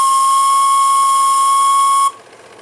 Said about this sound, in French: Le sifflet, oh j'adore, il est tellement beau.